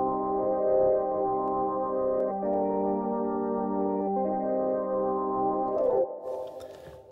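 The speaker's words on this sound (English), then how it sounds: "I've reduced the cutoff frequency and made it sound like this." A sustained, mellow Arturia synth chord through a Moog-style low-pass filter with its bright top end rolled off, holding steady for several seconds before cutting out into a brief noisy tail.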